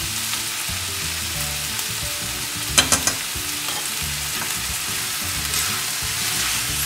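Quinoa and chicken sauté in a pan, giving a steady, close sizzle with a few scraping stir knocks partway through and no talking.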